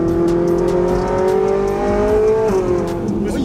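Ferrari sports car engine revving while driving, a loud close steady drone that climbs slightly in pitch, then drops abruptly near the end as the revs fall, with faint tire and road noise beneath.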